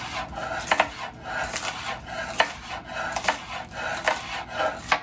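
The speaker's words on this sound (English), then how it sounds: "So now we're going to go ahead and chop these green onions" A knife chops green onions on a cutting board in rapid, steady strokes, each cut a crisp close tap against the wood, with no one speaking.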